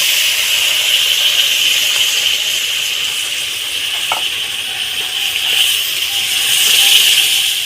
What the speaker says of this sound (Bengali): আমি ফুটন্ত গরম জল এখানে আমি সাড়ে চার কাপ নিয়েছি কাপ মেপে এই জলটাকে এর মধ্যে দিয়ে দিলাম